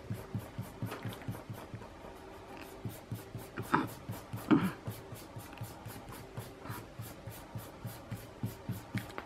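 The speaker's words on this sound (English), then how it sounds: "Now I am going to erase all my guidelines." A rubber eraser scrubs back and forth on paper to remove pencil guidelines, giving quick regular strokes close by with a steady low hum underneath.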